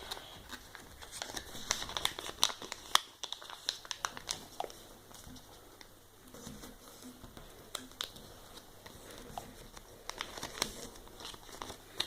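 Paper being folded into an origami frog, with quiet, close crinkles and soft creasing taps in an irregular patter throughout and no talking.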